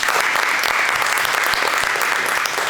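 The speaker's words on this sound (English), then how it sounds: "So can we give her a big round of applause?" An audience at an artist talk breaks into loud, sustained applause for the speaker, a thick even wash of many clapping hands that holds steady throughout, close and full.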